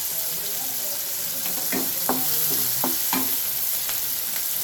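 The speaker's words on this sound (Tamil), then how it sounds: "நம்ம ஒரு நாலஞ்சு ப பல் பூண்டை தட்டி வச்சுருக்கோம் அதை போட்டுக்கிறேன்" Crushed garlic cloves frying in hot oil in a pan for radish masala: a steady, close sizzle with a few brief scrapes and knocks as the pan is stirred, and no talking.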